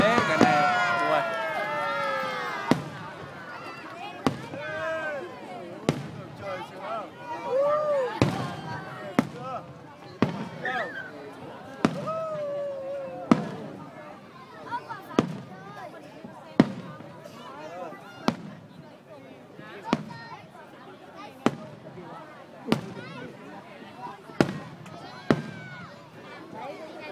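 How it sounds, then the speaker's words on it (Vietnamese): Two kinds of fireworks go off together during Lunar New Year's Eve celebrations for 2015, with sharp bangs at uneven intervals and whistling, crackling bursts between them. People talk and call out over the display. "bắn kết hợp hai loại pháo"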